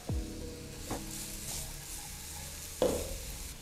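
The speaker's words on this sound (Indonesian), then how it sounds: "kita tumis dulu bawang bombaynya sampai dia harum, lalu diikuti dengan bawang putih dan juga bawang merah" Onions sautéing in oil in a Teflon pan, a soft steady sizzle at low level under a few clear clanks of a utensil against the pan, one near the start and one later.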